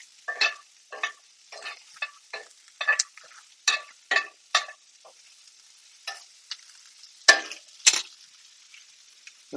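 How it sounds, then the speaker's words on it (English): Cauliflower sizzling in a pan as it is stirred and moved around, with a string of short scraping, frying bursts at an uneven rhythm over an otherwise quiet background. "don't forget to move the cauliflower around."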